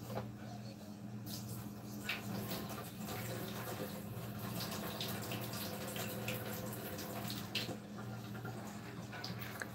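Water pours steadily into a kitchen sink as a pot of macaroni is drained: a continuous soft hiss and splash over a low hum, fairly quiet throughout.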